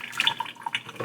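Water poured out of a film developing tank, a brief gurgling splash of liquid falling into a sink, close and fairly loud, no voices.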